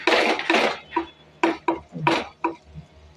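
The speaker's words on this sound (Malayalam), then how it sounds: "വെള്ളം ഒഴിച്ച് നമുക്കിത് അടച്ചു വെച്ചൊന്ന് വേവിക്കാൻ വിടാം" Metal lid and pot clatter on a stovetop while tomato curry cooks, several close clanks and clinks in quick irregular succession with no voices.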